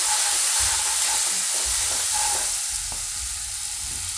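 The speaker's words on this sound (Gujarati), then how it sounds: "હવે આપણે આમાં લીલા મરચાં નાખી દઉં." Green chilies drop into hot oil in a home kitchen while cooking zunka, giving a loud, continuous close-up frying sizzle with faint stirring knocks, no voices.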